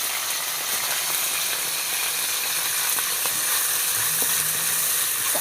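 Onions frying in hot oil with cinnamon, cloves and cardamom in a kadai, a steady close hiss of sizzling with occasional crackles and a faint stirring scrape, no talking.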